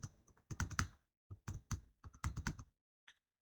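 Fingers tap out a short burst of keystrokes on a computer keyboard while entering text in MS Word, with close, crisp clicks in quick clusters and a pause before a final key press.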